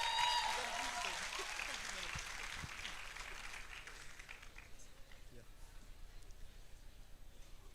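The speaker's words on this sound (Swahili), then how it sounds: "Hebu mpigie makofi." Applause for a guest at a college graduation and anniversary ceremony swells at first, then fades to a thinner patter as a speaker's voice carries on over it.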